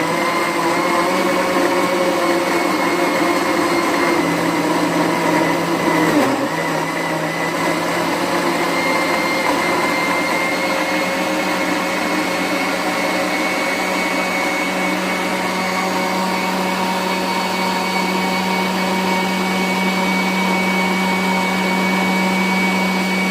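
A blender motor whirs steadily and loudly, close up, blending fruits and vegetables into a vinaigrette, with a brief dip partway through before the drone carries on.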